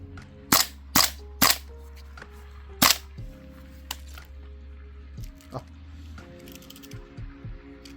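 Four loud, sharp shots from a gas blowback airsoft rifle fired on semi-auto at -7°C in winter cold, then a few quieter clicks and mechanical pops. A low steady hum runs underneath.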